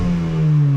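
Turbocharged Nissan Altima engine free revving with no boost, a loud steady low drone that holds and rises slightly over under a second, close and alone.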